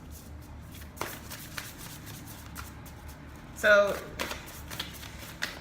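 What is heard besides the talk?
shuffling tarot cards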